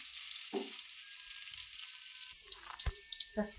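Garlic fries in hot oil with turmeric added, giving a steady, soft hiss of sizzling. Toward the end, brief scraping and clinking from stirring join the hiss.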